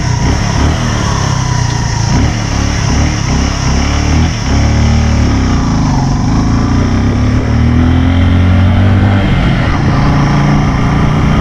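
A motorbike engine hums loud and close during a ride, with shifting engine pitch and wind rush throughout, while voices speak over it.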